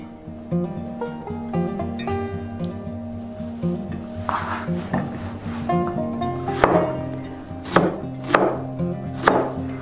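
An onion is sliced with a knife on a cutting board for Thai-style meat. It starts with a steady run of soft cuts, then gives way to sharper, louder chops spaced about a second apart, close up with no talking.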